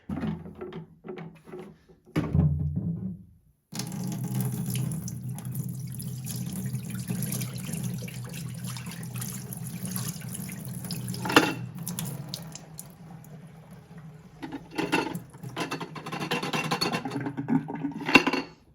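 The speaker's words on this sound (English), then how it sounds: "let's give this a pour and we can see how really dirty it is on this white sink right here" Filthy water from cleaning an old floor mat with a Bissell SpotClean Pro is poured into a white sink, a steady close splashing gush lasting over ten seconds, with brief clatters before and after.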